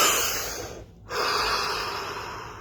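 A single deep breath taken during a stillness practice session: a steady, close airy inhale, a brief near-silent pause, then a long exhale that fades slowly.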